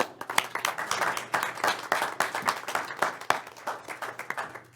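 An audience applauds at a city council and finance meeting in Riverton, Wyoming, a moderate room of hands clapping in a dense, steady patter for several seconds with no talking over it.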